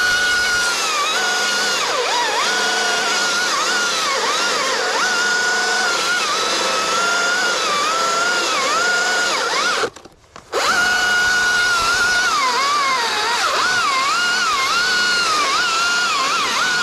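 A chainsaw cuts into a dead oak while the climber is up the tree, the engine loud and close and wavering in pitch as it bites, with a short break in the middle before revving again.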